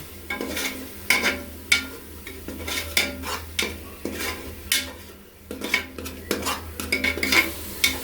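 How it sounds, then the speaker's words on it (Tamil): Chicken biryani ingredients with a masala blend are mixed in a metal pot: a ladle scrapes and knocks against the sides in uneven bursts over a low sizzle, with bright clinks standing out close by. "போட்டு நல்லா கலப்பி கலக்கலாம்."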